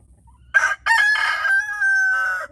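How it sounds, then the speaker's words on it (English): A rooster crows loudly and close by, one long drawn-out cock-a-doodle-doo with a stuttering start, sustained to the end. "It's not just in the morning that the roosters will talk."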